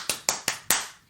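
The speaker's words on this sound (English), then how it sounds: "Let me hear your hand clap." Four sharp hand claps spaced evenly about a fifth of a second apart, each a crisp broadband crack with a short decay, close and alone with no talking.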